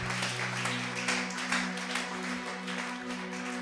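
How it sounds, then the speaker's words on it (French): Church congregation applauding during a French-language worship service, a steady, dense wash of clapping that holds for several seconds over a low sustained hum, with no speech over it. "Nous acclamons le Seigneur."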